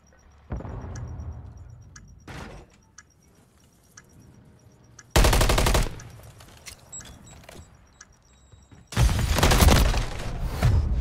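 Gunfire in a ranked round of a PC shooter game, with three loud, dense bursts of rapid shots separated by quieter stretches of clicks and ticks and no speech.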